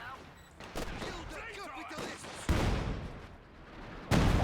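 Artillery barrage fire in the real-time strategy game Company of Heroes 2 booms in several loud, abrupt blasts with rumbling tails, mixed with other battle noise while a commentator talks over it.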